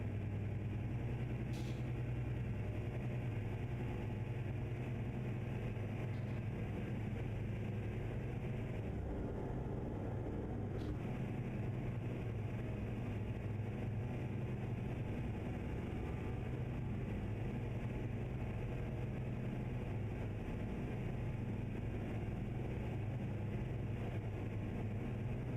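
A heavy truck engine idles steadily in a truck driving video game, a low continuous rumble held at an even level with no talk over it.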